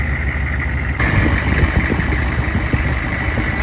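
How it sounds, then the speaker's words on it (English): An old diesel truck engine idles steadily with its muffler missing, a loud, rough, close rumble with a continuous low throb and a slight rise in level partway through, with no voices over it. "Sounds like somebody has cut my muffler out."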